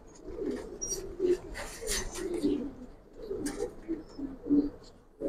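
Several pigeons coo together in a pen of fancy Giribaz and coloured breeds, their low throaty rolling calls repeating steadily at close range, with brief chirps and other bird noise mixed in and no talk.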